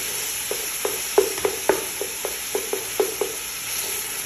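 Tomato paste and meat frying in a pan, stirred with a utensil that knocks in a steady run of clicks over a constant soft sizzle, with no speech.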